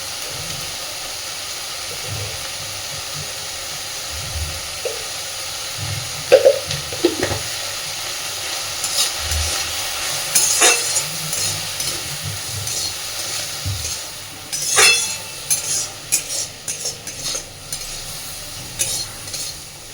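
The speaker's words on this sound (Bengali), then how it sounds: "মোটামুটি পেঁয়াজকালি আর আলুটাকে ফিফটি পারসেন্ট ভেজে নেব" Potato and onion stalks fry in oil in a pan, a soft continuous sizzle broken by louder scraping stirs that grow busier toward the end, close and without talk.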